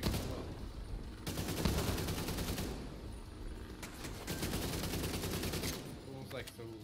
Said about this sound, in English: he's shooting as well